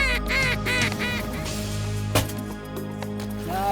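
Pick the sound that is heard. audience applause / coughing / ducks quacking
ducks quacking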